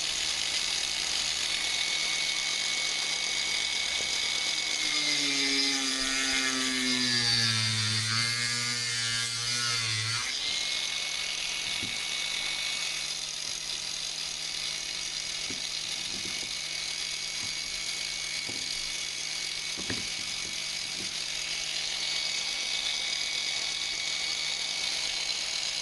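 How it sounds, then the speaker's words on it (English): A Makita/Milwaukee hybrid tube cutter cutting through a brand new drill: a rising, whining motor grinds through the body for several seconds, then runs on with a steady buzzing hum and faint ticking. "Let's cut this brand new drill to pieces."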